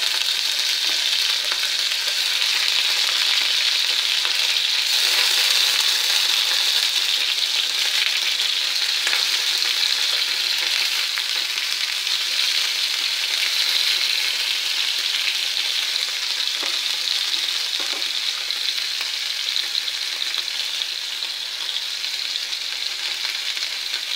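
Paneer pieces sizzling in hot oil in a pan while browning lightly for paneer masala gravy, an even, loud, continuous crackling hiss that stays unbroken, with no talking.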